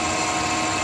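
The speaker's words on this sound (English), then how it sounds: "now we'll do our best to drill it through" A drill boring a 4.5 mm hole through a metal part for a handmade custom bike, a steady, loud, even whine with no pauses and no talking.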